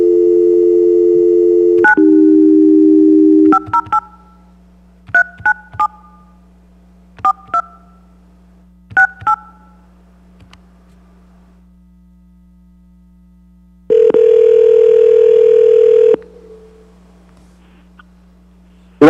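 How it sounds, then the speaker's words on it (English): Conference-call telephone tones at a town selectmen meeting: a steady dial tone, then a short run of keypad dialing beeps in small clusters, a long quiet stretch, and a loud held tone near the end, all over a constant mains hum. "we're going to have Doug key up the folks on the phone."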